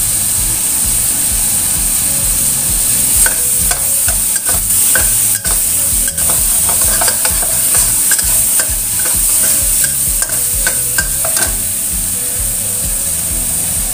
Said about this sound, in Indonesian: setelah ditumis sampai harum, lalu kemudian di sini masukkan petenya